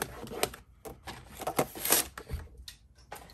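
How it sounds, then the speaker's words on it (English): A paper trimmer scores a cardstock card base in a run of short, uneven scraping and clicking strokes, close and fairly quiet, separated by brief pauses and without talk. "We're gonna score it with our paper trimmer"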